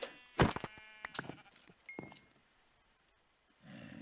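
Sheep bleats and hit sounds as a sheep is killed in Minecraft survival mode, a few short sharp game effects and bleats in quick succession, then quiet before a soft swell of sound.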